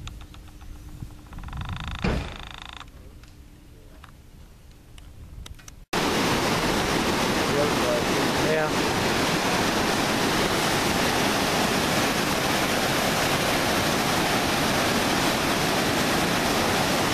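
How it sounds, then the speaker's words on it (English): Glacier meltwater near Mount Baker, Washington rushes in a loud, continuous wash that fills the scene after a quieter opening with faint background noise. "Glacier water by Mount Baker, Washington."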